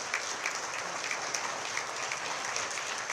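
Sustained audience applause for Taiwan's president at a Ministry of Foreign Affairs evening gala, a dense, even roar of many clapping hands heard from a distance throughout.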